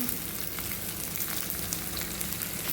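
Sliced onions frying in oil for a Kerala-style beef curry produce a quiet, continuous crackling sizzle with fine popping, steady throughout and heard alone.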